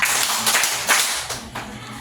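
A classroom of students clapping for a classmate, a few sharp group claps in a loose rhythm, close and fairly loud with little talk.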